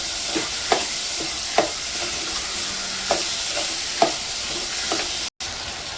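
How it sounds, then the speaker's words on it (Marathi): Dal roasts in oil in a pan, a constant hissing sizzle broken by several sharp clicks of a spoon against the pan, with a brief dropout near the end and no speech. "डाळीला आता आपण 2 मिनिटं तेलामध्ये भाजून घेणार आहोत।"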